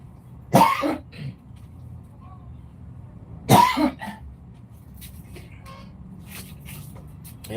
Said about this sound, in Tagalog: Panay ubo.